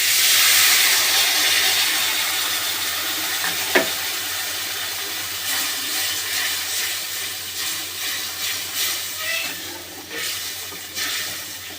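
Food fries in a pan with tamarind pulp added, giving a steady broadband sizzle and hiss with occasional stirring scrapes and one sharp clink, moderately loud and without talk.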